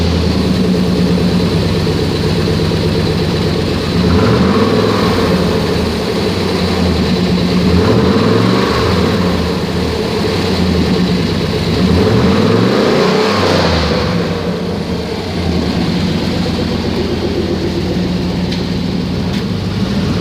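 A 1997 Chevrolet Silverado pickup with about 194,000 miles runs steadily near the microphone, its engine idling with a low rumble and rising in several revs.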